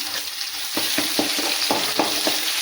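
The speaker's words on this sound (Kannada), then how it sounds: "ಈಗ ಇದಕ್ಕೆ ಬೆಳ್ಳುಳ್ಳಿ ಹಾಕ್ತೀನಿ." Garlic frying in a pan of oil for bisi bele bath, a steady close sizzle broken by a series of regular scraping stirs, with no voices.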